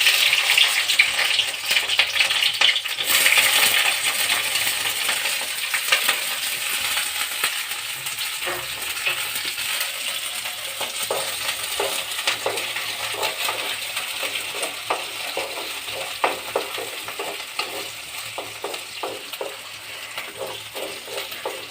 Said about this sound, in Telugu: పచ్చిమిరపకాయలు దూరంగా వేగేటట్టు వేగించాలి